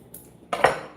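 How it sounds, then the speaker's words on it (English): Cooked quinoa is dumped from a pot into a bowl in a home kitchen during a fall quinoa salad recipe: a faint tap, then a brief close clatter and scrape of cookware, with no talking. "I'm gonna dump the quinoa, not all of it, most of it. Okay, into here."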